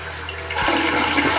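In a small rental apartment bathroom, a toilet is flushed: a low hum gives way to a sudden surge of rushing water that continues strongly and close by, with no voices.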